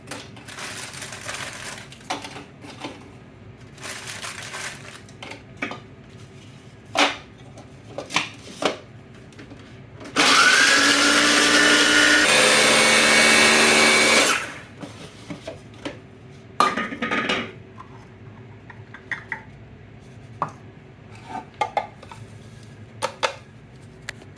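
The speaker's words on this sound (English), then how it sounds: "Next, I'm going to grind some more crackers." Crackers being ground into crumbs for a shrimp stuffing topping, a dense, loud grinding roar lasting about four seconds in the middle, set among scattered kitchen clatters and taps.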